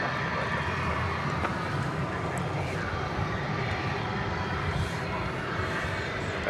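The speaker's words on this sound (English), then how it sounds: "A 737-800 is poised for takeoff." American Airlines Boeing 737-800 taking off at Dallas/Fort Worth airport, a steady distant jet engine roar that holds broadband and even throughout.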